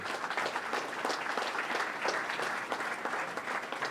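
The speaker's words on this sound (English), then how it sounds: "Well, give your guys yourself a round of applause." Audience applause at a 1 Million Cups Wichita startup pitch event, a steady, moderately distant wash of clapping from a room full of attendees, continuous throughout with no talking.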